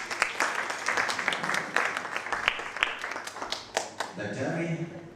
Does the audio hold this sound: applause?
yes